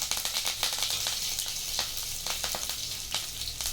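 Curry leaves crackling in hot oil for a South Indian sambar, a dense, steady sizzle with rapid spattering pops throughout, close and fairly loud, with no talking.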